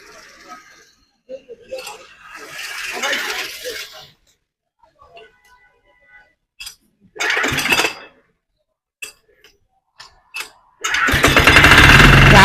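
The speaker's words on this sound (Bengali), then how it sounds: "আমরা গাড়িটা স্টার্ট দেব" A 7 HP diesel Kubota-type mini hand power tiller kicks over near the end, a loud rough burst of engine noise after scattered handling clatter and bursts of talk.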